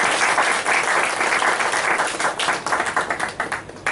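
An audience bursts into warm applause welcoming veteran playwright Pravin Solanki at a theatre talk event, dense clapping that holds strong then thins into scattered individual claps near the end.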